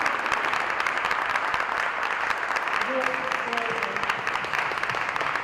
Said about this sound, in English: Please, would you join me in applauding them for their contribution?